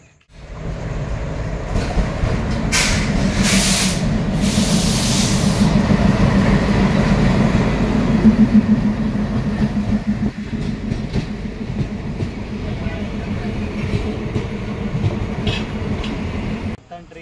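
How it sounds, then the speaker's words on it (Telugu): A train rumbles into a station, its loud continuous roar and wheel clatter building and then holding steady, with a few high brake squeals early on. "ట్రైన్ వచ్చింది."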